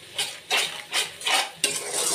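A spoon stirs an egg biryani mixture in a pan, making about five rhythmic scraping sweeps roughly half a second apart, close and clear with no voices.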